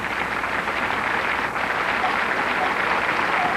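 A studio audience applauds during a home-improvement show, a steady, even wash of clapping sustained throughout at moderate distance.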